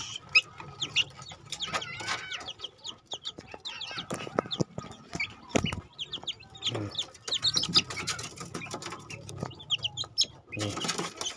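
Several young Bangkok gamecock roosters and hens cluck and squawk up close in a busy run, with bursts of calls overlapping and a few louder sharp cries, and someone talks briefly among them.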